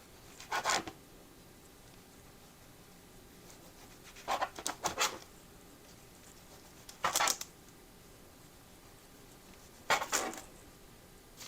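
A small serrated knife saws through rolled cinnamon roll dough in four short separate bursts of rasping strokes, close and fairly quiet, with near-silence between the cuts.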